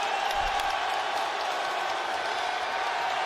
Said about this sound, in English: Listen to that crowd, though.